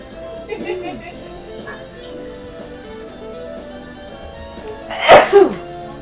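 A sharp, loud sneeze bursts out near the end, following a stretch of quiet background sound with a faint earlier vocal noise.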